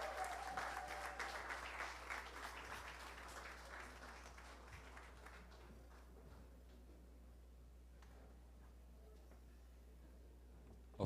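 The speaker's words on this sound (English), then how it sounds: "please give Dee's Dance Studio a big round of applause" An awards ceremony audience applauds a dance studio at the 35th Caribbean Media Awards. The applause is fairly loud at first, then fades over several seconds to faint scattered claps over a low steady hum.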